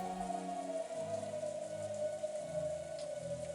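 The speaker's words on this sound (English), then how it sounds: "All that remained was the sound of the wind and rain" Rain sound effect from the Umineko visual novel, a steady patter of rainfall with wind running throughout, layered under a sustained tonal music line.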